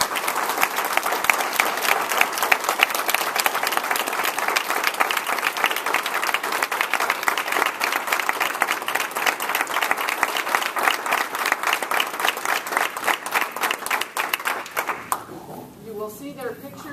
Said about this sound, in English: Let's share a big round of applause.